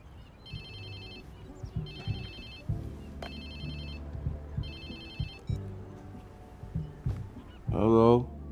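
In the video game Watch Dogs 2, a phone rings in repeated short bursts over low background sounds, and a voice speaks briefly near the end.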